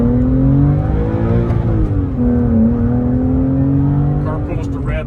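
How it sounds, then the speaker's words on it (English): A 2001 Porsche 911 Carrera coupe with factory Aerokit accelerates, its engine note rising and holding steady through several seconds of strong, close, continuous revving, with a brief shift in pitch midway. "Let's give us a little acceleration here."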